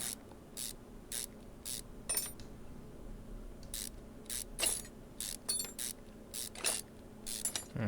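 Intake manifold bolts being unfastened one after another on a flat plastic manifold of an Aston Martin DBX engine in Car Mechanic Simulator 2021, a series of short, crisp ratcheting bursts at an irregular rhythm over a low steady hum.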